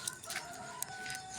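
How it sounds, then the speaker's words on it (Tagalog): Hungry backyard chickens cluck softly nearby in a short burst of several quick, irregular clucks and calls over quiet ambient noise. "Gutom na yung mga manok ko."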